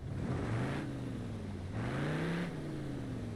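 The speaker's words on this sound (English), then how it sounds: "that sounds lovely. Sounds like a V8 to me." A 78-horsepower flathead V8 car engine in the BeamNG driving game revving up and down twice in steady swells, a smooth continuous drone with no voices.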